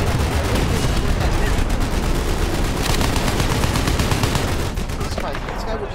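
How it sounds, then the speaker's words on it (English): Machine guns fire in a tank video game with an AMX-13 in play, a dense, loud and continuous rattle of rapid shots that eases slightly near the end. "This guy would just stop firing all his machine guns."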